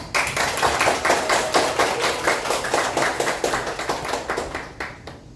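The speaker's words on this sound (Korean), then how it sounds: "박수로 시작해볼까요?" An audience at a book talk claps to open the event, a rhythmic, evenly paced round of hand claps that stays steady and then tapers off toward the end, with no speech over it.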